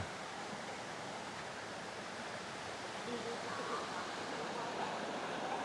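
A continuous rushing of a flowing stream beside a campsite in Saraburi, Thailand, steady and moderately close, filling the background without pause.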